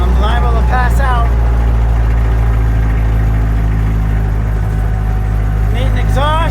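A 1958 Jeep DJ-3A Dispatcher engine runs with no exhaust system, a loud, steady low rumble filling the whole stretch while a person talks over it at the start and end.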